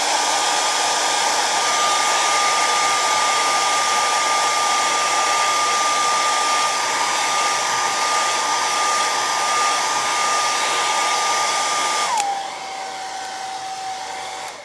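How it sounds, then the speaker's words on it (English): A blow dryer drying paint on a Halloween painting whirs in a steady loud hum, then drops abruptly to a lower setting near the end, with no talking. "Got to hit that with a blow dryer or we'll have a gray tree."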